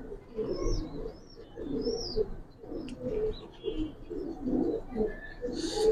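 Giribaz pigeons coo in soft, repeated throaty rolls close by, with a few high chirps from other birds and someone speaking briefly.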